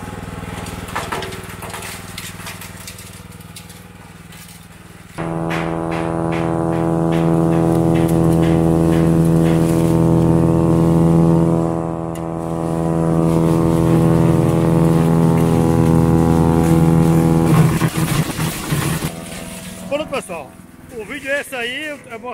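A shredding machine grinds dry leaves for compost with a steady, loud motor drone under crunching and rattling. It starts after a few seconds and ends in clattering, with speech heard alongside.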